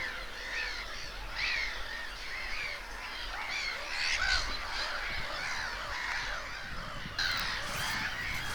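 A crowd of gulls calls raucously at an RSPB Minsmere nature reserve, harsh overlapping squawks and cries continuing without pause at a moderate distance.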